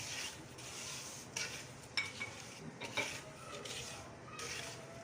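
Sugar being stirred into browned cardamom in a cooking pot for mutanjan, a soft continuous scraping and sizzling with a few clinks of the spoon against the pot, close and fairly quiet.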